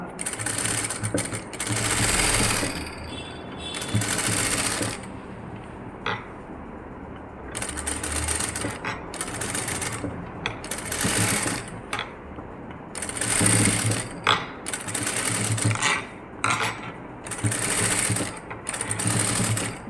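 A sewing machine stitches an aari work blouse up close, running in repeated loud bursts of rapid needle clatter with short pauses between runs, with no talking.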